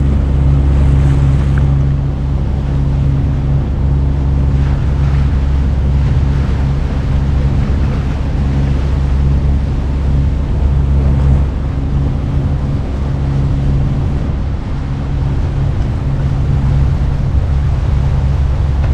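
Wind roars steadily past a sailboat off Newport Harbor, a loud constant low rumble of wind buffeting with water wash beneath, sustained throughout without talk.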